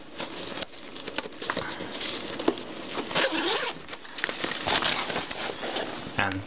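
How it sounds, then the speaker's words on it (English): A zipper on a PiperGear Sandpiper bug out bag backpack being pulled open, quick rasping zip strokes mixed with fabric rustling and handling clatter, close and moderately loud. "here you have another large zipper, and you have two of the zippers"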